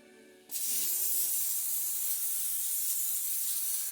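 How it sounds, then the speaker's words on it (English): A close, sharp hiss of aerosol spray starts abruptly after a brief pause and holds steady for about three seconds before cutting off. "Then we'll spray with olive oil."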